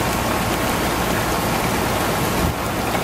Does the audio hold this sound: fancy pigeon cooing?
no